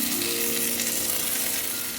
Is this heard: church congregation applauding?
no